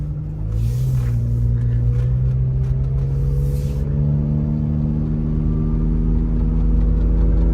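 A Honda Element's mid-sized car engine runs steadily and shifts into second gear, with a smooth rising then settling drone and a brief burst of higher-pitched noise early on, suggesting a transmission fault.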